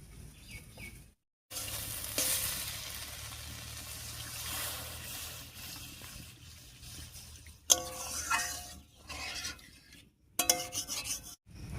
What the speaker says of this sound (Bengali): বাটা মশলাটা দিয়ে একটু কষিয়ে নিয়েছি। এবারে ঝোলের জন্য জল দেব।